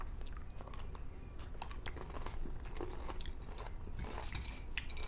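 Crunchy Doritos and Fritos walking taco chips are chewed up close, with irregular crisp crunches and biting sounds breaking through steady chewing.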